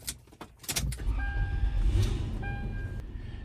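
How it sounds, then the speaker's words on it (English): A Lexus LX470 with 300K miles is started after transmission maintenance: a few clicks and a short crank lead into the engine catching and settling into a steady, close idle, with faint chime tones over the rumble. "we're going to go ahead and start the vehicle."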